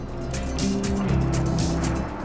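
Cars whoosh past a big tractor on a country road in Farming Simulator 25, a near engine drone with rising and fading pass-bys, steady and fairly loud, no talking.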